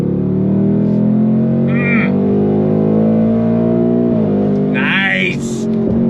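A 2024 Ford Mustang GT V8 accelerating on throttle gives a loud, steady engine drone that climbs gradually in pitch, heard from inside the car with brief tire or wind noises near the end.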